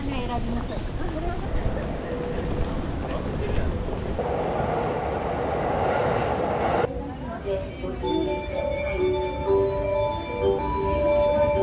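A train at a station in Shinjuku, Tokyo, heard as a rumbling rail drone with a rushing hiss burst partway through, followed by ringing electronic tones over busy station ambience.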